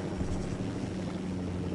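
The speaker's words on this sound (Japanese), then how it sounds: "ていうかこれユニダットのヘリなのにさ" A helicopter in the video game Ghost Recon Wildlands gives a steady, close rotor and engine drone that holds without a break, with no talk over it.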